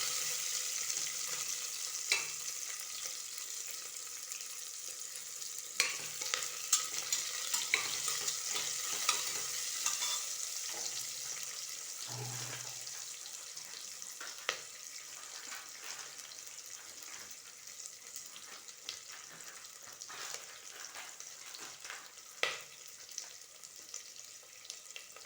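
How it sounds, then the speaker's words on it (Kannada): Soft, steady sizzle of Byadagi chillies, four green chillies and chopped onion frying in a pan, with occasional stirring scrapes and clicks over a continuous hiss and no talking. "ಈ ಥರ ಚೆನ್ನಾಗಿ ಫ್ರೈ ಮಾಡಬೇಕಿದು. ಕಲರ್ ಚೇಂಜ್ ಆಗೋವರೆಗೂ ಫ್ರೈ ಮಾಡಬೇಕು."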